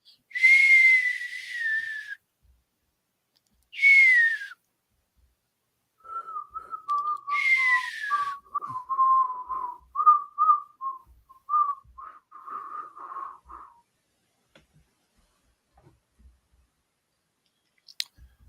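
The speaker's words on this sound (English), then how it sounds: "Jeff hears Tommy whistle the agreed upon signal" A man whistles a signal in a radio drama: three long descending whistled notes, then a rapid warbling run of shorter notes, clear and close with no talking.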